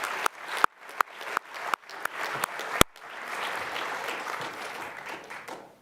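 Applause at the UCF Founders' Day student honors celebration starts as a few sharp, separate claps, then swells into a dense, sustained round from the whole audience.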